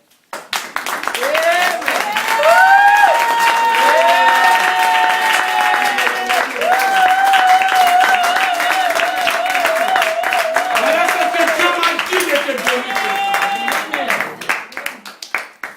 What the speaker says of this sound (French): Est-ce que tu peux donner le fond d'acclamation?